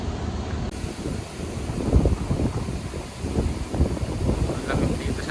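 Wind gusts steadily outdoors after rain, a rough, buffeting rush against the microphone that rises and falls throughout, with a voice briefly present.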